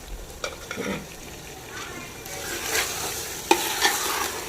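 Chicken and masala sautéing for a seeraga samba chicken biryani, a steady sizzle in the pan broken by a few sharp stirring scrapes and clanks, fairly close and moderately loud with no talking.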